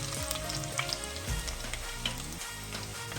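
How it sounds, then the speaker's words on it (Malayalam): A teaspoon of finely chopped ginger sizzles in hot oil in a pan with fenugreek seeds, giving a close, continuous crackling fry with a few stirring scrapes. "ഇതിലേക്ക് ഒരു ടീസ്പൂൺ ചെറുതായി ചോപ്പ് ചെയ്ത ജിഞ്ചറാണ് ഇടുന്നത്"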